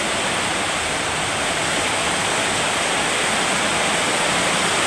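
Heavy rain pours at night in Dasmariñas as a dense, loud, unbroken roar of broadband noise that stays constant throughout, with no voices heard.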